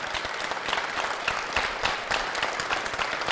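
Applause greets Xi Jinping as he walks to the press conference after the Communist Party's first plenary session, a steady, continuous wash of many hands clapping in a large room.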